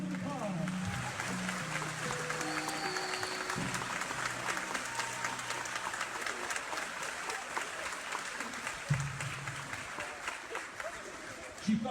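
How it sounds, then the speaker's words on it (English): Sustained applause from an audience at a soldier's homecoming reunion, dense clapping filling the whole stretch with crowd noise and some voices mixed in, a few louder thumps near the end. "Everyone give it a round of applause."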